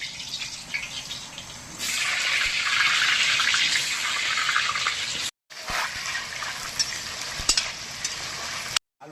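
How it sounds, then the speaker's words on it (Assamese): Potatoes frying in a pan, a hissing sizzle that swells loud after a quieter start, breaks off briefly twice, then carries on at a similar level with small crackles. "আলুটো ফ্ৰাই কৰি ল'ম।"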